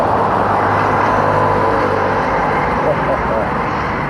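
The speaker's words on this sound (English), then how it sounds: "It's an M&S lorry." A Marks & Spencer lorry rolls past, a loud broad engine roar that holds steady and then eases slightly toward the end, with no distinct speech over it.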